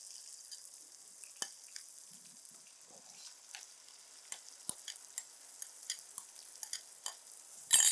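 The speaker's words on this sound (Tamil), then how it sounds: "தென் இப்போ நம்ம அந்த ஊற வச்ச சிக்கன் ஆட் பண்ணிக்கலாம்" Marinated chicken sizzles faintly in a frying pan: a soft, steady hiss broken by scattered small pops and clicks, which grows louder right at the end.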